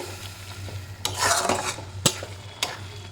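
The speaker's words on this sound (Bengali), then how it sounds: "এর মধ্যে হলুদ, একটু নাড়িয়ে" Turmeric being stirred into a simmering curry in a pan, with a spoon scraping and clinking against the metal at intervals over a soft steady sizzle.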